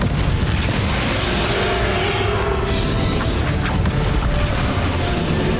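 A Confringo blasting spell erupts in Hogwarts Legacy, a loud, dense, rumbling burst of explosive noise that stays roaring and crashing for several seconds.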